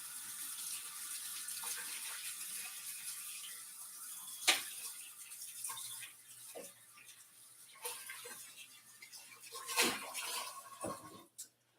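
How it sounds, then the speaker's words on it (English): Water from a tap runs steadily into a sink while something is rinsed out, with a few clinks and knocks of dishes, close and fairly quiet, alone without talk. "Let me rinse this out."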